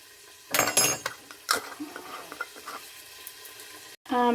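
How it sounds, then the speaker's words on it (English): A spoon stirs black chickpea curry with chili powder in a pot, with clattering scrapes and clinks against the metal over a low sizzle, the clinks bunched at first and then thinning out. "Pop that in, give it a stir."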